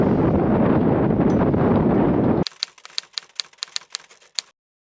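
A strong north wind gusts across a sailboat's exposed anchorage, roaring loudly against the microphone for a couple of seconds before cutting off abruptly to a sparse run of sharp clicks.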